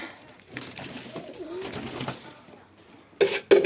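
Pigeons in a loft coo softly and low through the first half, then sharp, louder bursts of flapping or movement break in near the end.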